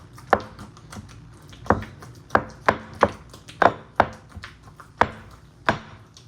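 Ripe plantain is pounded in a mortar: about a dozen sharp, close thuds at an uneven pace, each with a short woody knock, and no voices.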